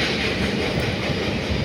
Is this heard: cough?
no